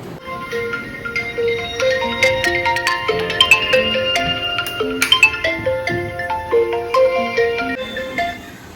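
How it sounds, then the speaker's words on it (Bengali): A melodic electronic phone ringtone plays loudly and up close, a bright repeating tune of stepped notes lasting several seconds with no talking. "ওই ফোন করে দিয়েছে মা"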